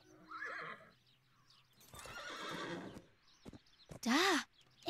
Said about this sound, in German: Ich muss zum Einhorn reiten, Lena!